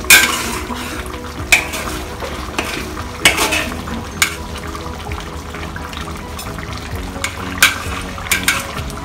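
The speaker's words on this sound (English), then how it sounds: "I'm just going to mix the gravy around" A utensil stirs hot and sour stingray gravy in a pan, scraping and clinking against the metal with a few sharper knocks amid a low simmering hiss, close by and with no speech.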